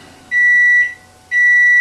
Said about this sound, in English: that's the sound of my dinner in the microwave.